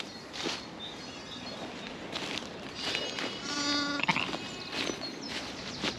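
Several farm sheep bleat on and off at moderate distance, wavering cries rising over a steady outdoor hum.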